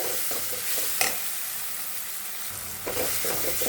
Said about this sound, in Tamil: நல்லா எண்ணெயிலேயே அதையும் வதக்கிக்கலாம் பச்சை வாசனை போகிற அளவுக்கு